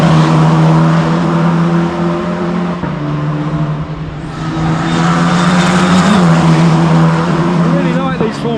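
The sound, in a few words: Formula 4 race cars at Bang Saen street race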